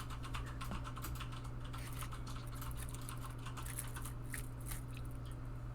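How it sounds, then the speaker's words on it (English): A plastic packet of crackers crinkles close at hand in a dense run of small crisp ticks and rustles, with a steady low electrical hum underneath. "That crinkling. Oh, that's the crackers that I have next to me."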